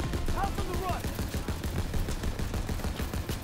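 A mounted machine gun in the Call of Duty WW2 video game fires a steady rapid stream of repeated shots, with a voice talking over the gunfire.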